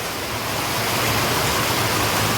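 Heavy rain pours down steadily in a Gujarati village, a dense, even hiss of falling water that stays loud and unbroken throughout, with no voices.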